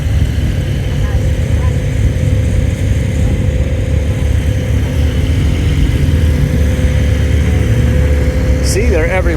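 Cars, Porsche 911s among them, idle and rumble at a Cars & Coffee meet at Mercato in Naples, Florida, a steady close engine drone with crowd noise and a brief higher engine rev near the end.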